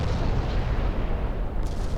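Naval guns fire in the Ultimate Admiral Dreadnoughts video game, producing a loud, rumbling boom that rolls on continuously like heavy artillery, with no voices.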